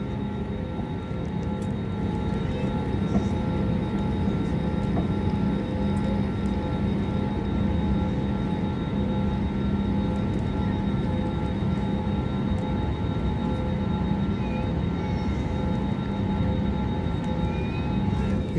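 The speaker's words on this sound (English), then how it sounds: "We're currently taxiing at 16 knots." Inside a SriLankan Airlines airliner taxiing at around 16 to 20 knots, the engines give a constant low rumble and drone with a faint steady whine, unbroken throughout and heard without speech.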